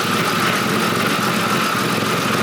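An RB26 engine fitted with HKS 264-degree cams runs at a steady idle, its loud exhaust producing a constant, close drone with no talk over it.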